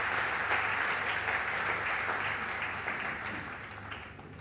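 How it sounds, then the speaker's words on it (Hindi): Steady applause from an audience at a company presentation for DXN, a dense even wash of clapping that holds throughout and eases slightly toward the end, with no speech over it. "तालियां होनी चाहिए डीएक्सएन के लिए."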